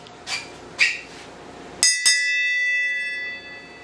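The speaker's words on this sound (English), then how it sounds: "I'm going to go ahead and ring the bell." A metal bell in a workshop is struck twice in quick succession, bright ringing tones that sustain and fade over a second or so, preceded by a few light knocks.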